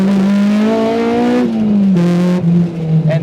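A K20-swapped Honda EG Civic revs loudly, its engine note rising then dropping through quick pulls, close and raw, with a brief word spoken near the end.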